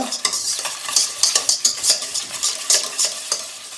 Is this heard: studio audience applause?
no